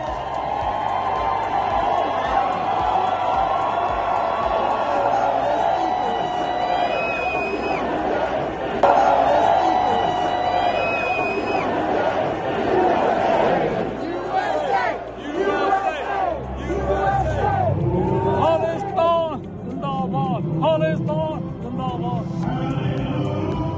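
A large crowd at Trump's Liberty Ball inauguration party shouts and chants continuously, a loud, dense wash of voices with rhythmic bursts, some individual shouts rising above the roar.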